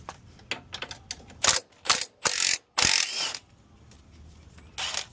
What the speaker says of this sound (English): we'll grab our 14mm socket and our wrench here